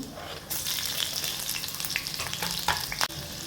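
Green chilies hit hot oil already crackling with mustard seeds, cumin and chopped garlic, setting off a loud, steady sizzle with scattered sharp pops and spatters, close and without any voices.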